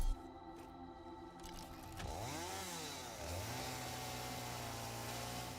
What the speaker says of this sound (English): Also, I need to chainsaw this stuff.